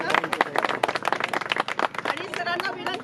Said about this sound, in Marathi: जोरदार टाळ्या वाजवा सगळ्यांनी